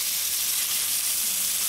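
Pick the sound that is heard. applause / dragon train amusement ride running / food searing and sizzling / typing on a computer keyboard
food searing and sizzling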